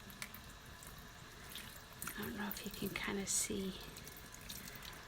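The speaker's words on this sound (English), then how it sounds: "Let me turn the water down a little bit." A kitchen tap runs steadily into a sink, a soft continuous hiss and splash at low level while a person talks quietly over it during a late-night rinse of eco-dyed prints.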